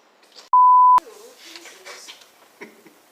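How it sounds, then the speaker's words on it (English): One loud, steady electronic tone lasting about half a second, cutting off abruptly, followed by quiet speech. "Beep"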